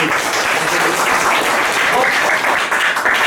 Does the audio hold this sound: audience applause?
yes